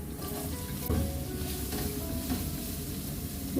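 Finely chopped onions sauté in a pan with green chillies, ginger and shallots, making a low, steady sizzle that runs throughout. A couple of faint stirring knocks sit under it, and no one talks.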